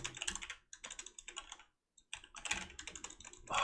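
Rapid keystrokes on a computer keyboard fill the clip, dense and close, in two bursts separated by a brief pause.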